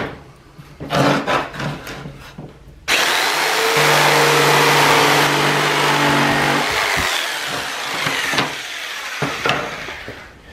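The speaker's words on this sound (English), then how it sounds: "I'm just using a jigsaw to cut this out" Jigsaw cutting a wooden panel for a homemade buffer box, a few short knocks and then a loud sustained buzzing cut for several seconds that tapers off, followed by scattered clatter.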